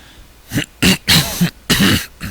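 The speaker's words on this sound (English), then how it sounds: "Sorry for the cough." Several short, harsh coughs in quick succession, close and fairly loud, with brief pauses between bursts, no talking.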